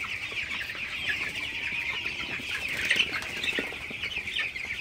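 Broiler chickens in a poultry shed during hot weather cluck and chatter as a dense, continuous chorus, with occasional brief wing flaps and louder squawks near the middle.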